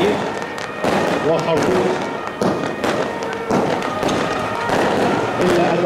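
Rapid cracks and thumps of flares and gunfire at a riot police training exercise for election security, loud and continuous with crowd noise, while someone talks over the din.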